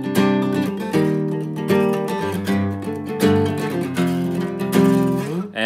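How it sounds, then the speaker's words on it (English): Acoustic guitar strums voiced suspended chords with open strings left ringing, a full steady rhythmic pattern that stays loud throughout and ends on a brief upward slide, with no voice. "And they're really just suspended chords"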